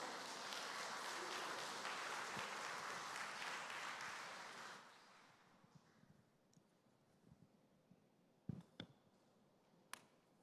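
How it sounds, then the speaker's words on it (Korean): A church congregation applauds loudly for several seconds, welcoming a pastor, then the clapping fades into a quiet room with a few scattered taps and clicks. "박수로 환영하겠습니다"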